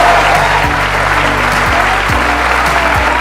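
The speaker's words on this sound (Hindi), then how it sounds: "बजाओ ताली" Loud, steady audience applause fills a studio, welcoming a guest onto a talk show stage, with dense continuous clapping throughout.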